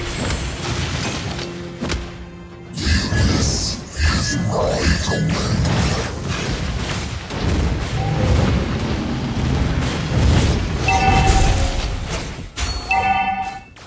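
A turret is destroyed in the mobile game Mobile Legends: Bang Bang, with heavy booming impacts and mechanical crunching amid continuous busy battle effects and game voice announcements.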